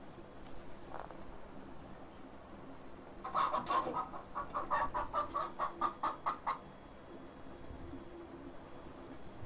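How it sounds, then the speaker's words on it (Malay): A chicken clucks in a quick run of rhythmic, evenly spaced clucks, fairly close, over a quiet background. "bunyi ayam"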